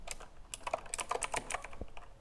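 Someone types on a computer keyboard during a p5.js coding session, with a brisk, irregular run of close key clicks and no one talking.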